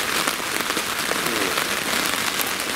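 Rain drums steadily on a FIELDOOR two-room shelter tent at a forest campsite, a dense, even patter of drops striking the fabric with no letup and no voices.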